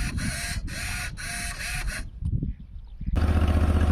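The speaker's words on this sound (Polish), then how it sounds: "Zresztą słychać jak serwa chodzą." Electric servo motors on a small tractor with an electric joystick whir in short repeated bursts, pausing briefly between each, then a louder steady mechanical hum with a low rhythmic throb takes over.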